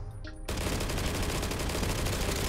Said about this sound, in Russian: Обновлены звуки выстрелов у оружия КС-1,